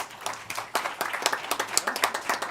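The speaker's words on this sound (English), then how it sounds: "So if you can give them a round of applause because I think they're terrific." Scattered clapping at a Senate education committee meeting, a quiet round of applause from a modest group with irregular, fairly faint claps.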